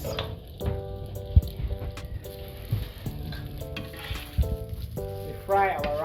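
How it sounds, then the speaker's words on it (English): Rice fries in a pan with peas, bell pepper and corn, giving a quiet, steady sizzle broken by a few scraping stirs and light clinks of a utensil against the pan, with no talk. "We fry our rice a bit."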